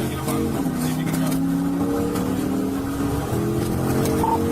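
Suspect car accelerating at high speed during a police chase on a crowded road, a steady loud engine roar with rising and shifting pitch and constant road noise throughout.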